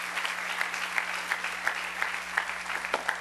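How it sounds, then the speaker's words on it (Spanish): Church congregation applauding during a sermon, a continuous even clatter of many hands with a few sharper claps standing out and a low steady hum beneath. "A él otro aplauso al Rey bendito"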